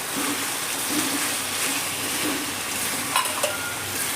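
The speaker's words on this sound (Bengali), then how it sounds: "এবার আমি এর মধ্যে সেদ্ধ করা মটনটা দিয়ে দিলাম" Boiled mutton sizzles in a spiced masala as it is stirred, a dense continuous frying hiss with soft scraping and a couple of sharper clanks near the end.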